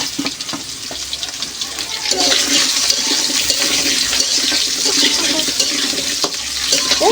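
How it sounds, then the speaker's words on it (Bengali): Taro roots (kochurmukhi) fry in hot oil in a pan over a wood-fired stove, a steady loud sizzle and crackle with occasional stirring scrapes running throughout. "এবার এই তেলেই বেগুনটা কচুরমুখিটা ভেজে নেব। কচুরমুখিটা আগে ভেজে নেব।"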